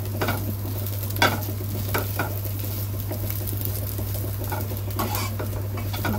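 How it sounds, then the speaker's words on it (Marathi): Garlic, ginger and chili roast in coconut in a pan for a Malvani-style egg masala curry, giving a low steady sizzle with soft scrapes and clinks of a stirring spoon, near and continuous, with no talking. "लसूण टाकते आणि आलं आणि मिरची ते हलकंसं भाजून घेते खोबऱ्यामध्ये"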